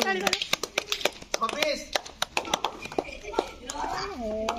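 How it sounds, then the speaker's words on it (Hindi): Children clap their hands in a classroom learning activity, a quick scatter of sharp, uneven slaps mixed with lively kids' voices and chatter throughout. "अच्छा भाई ताली मारो"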